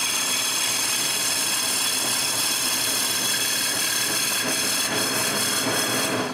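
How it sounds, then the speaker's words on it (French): A wood lathe runs at increased speed while drilling a long hole in a wooden workpiece, giving a loud, steady whirring hiss with broadband grinding noise that holds constant throughout. "J'augmente donc la vitesse du tour et je perce le trou"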